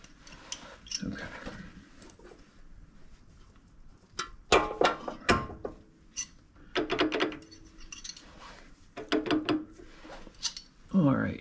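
Metal clinks and ratchety clunks from a wrench tightening change gears on an imperial metal lathe, in short irregular bursts up close with quiet pauses between and a brief voice near the start.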